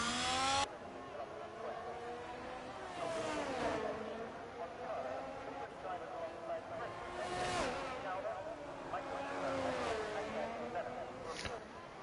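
An F1 race car in a Monaco racing video game whines through the chicane out of the tunnel, its engine pitch rising and falling steadily as it accelerates and brakes, a constant loud drone.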